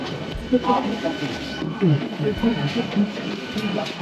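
Inside a local passenger train in winter, the carriage rumbles and rattles steadily with a low rolling drone from the wheels and car body, while voices chatter over it.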